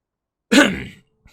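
A single short, harsh cough, close and loud, in otherwise near silence.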